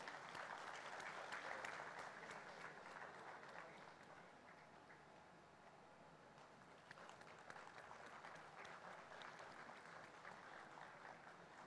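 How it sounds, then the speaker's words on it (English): Broad crowd applause fills the hall at a national company secretaries conference in Varanasi, a sustained wash of clapping, distant and soft, swelling early then continuing evenly. "Let's have a big round of applause, ladies and gentlemen."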